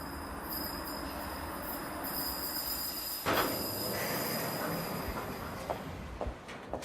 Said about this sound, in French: j'ai un autre son plutôt d'un métro qui arrive en station